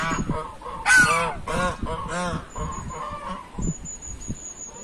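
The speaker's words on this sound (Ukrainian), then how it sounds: "Ой, тут ось гуси." Geese honk loudly at close range in a Japanese-style park in Volodarka, Kyiv region, on a windy November day, with repeated harsh calls overlapping one another.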